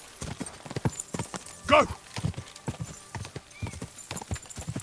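Rapid clip-clop of a horse's hooves galloping in a video game set around Trosky, with a brief whinny partway through and a person talking excitedly over the steady rhythm.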